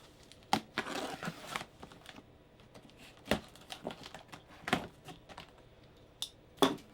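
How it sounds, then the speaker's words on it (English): A cardboard shipping box holding a leather race jacket and gloves is pried open in scattered bursts of crinkling, tearing and scraping, with quiet pauses between them and no talking. "Get this open without cutting myself."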